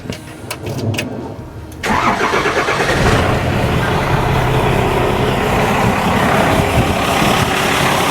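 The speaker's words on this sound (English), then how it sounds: "let's get this thing started up" A 12-valve Cummins diesel truck engine cranks over and catches, then settles into a loud, steady idle close by.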